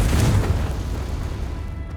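A Confringo fire spell detonating in the Hogwarts Legacy video game, a loud booming blast with a deep rumble that decays over about two seconds, with no voice over it.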